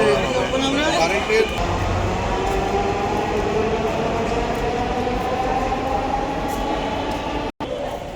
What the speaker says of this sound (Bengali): মেট্রো রেল স্টেশনে প্রবেশ করলো এবং এটা দরজা ওপেন হবে